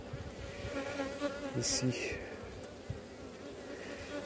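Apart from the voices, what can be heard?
honey bees flying around the hive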